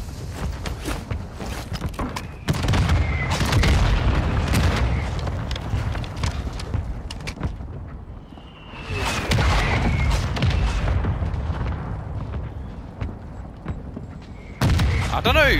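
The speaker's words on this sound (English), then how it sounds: "Hostile mortar strike incoming." Mortar strike explosions in the Call of Duty: Modern Warfare II video game, a run of heavy booms and rumbling blasts with scattered crackling and footstep-like thuds, some loud and near, mixed with brief voice chatter.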